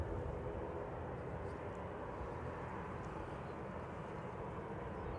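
TUI airliner departing Manchester Airport, a steady, broad jet roar held at an even level throughout, distant rather than close, with no other sounds standing out.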